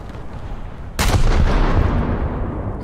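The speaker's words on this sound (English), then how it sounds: "There goes another shell room detonation" Warship shell room detonation in a naval video game: one sudden heavy explosion about a second in, followed by a loud rumbling roar that slowly tapers off without speech.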